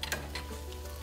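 Tomato paste cooking and being stirred in a pan with homemade vegetable broth for a bolognese gives a faint, steady sizzle with soft scraping strokes, no talking.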